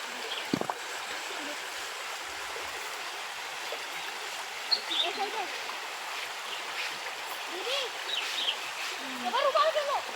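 A river flowing over stones makes a steady broadband rush with a few faint bird calls and small splashes, while a person talks at times over it.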